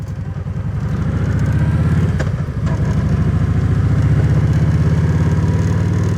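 A motorcycle engine runs loud and close with a rhythmic throbbing pulse, shifting briefly as the ride on a rustic road gets underway, with a faint clatter in the mix.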